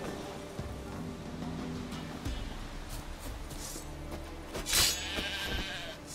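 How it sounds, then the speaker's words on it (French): Sheep in The Witcher 3 bleating several times amid ambient game background noise, the bleats moderately loud and rising over a steady wash of environmental sound. "Les moutons repopent à l'infini, sérieux?"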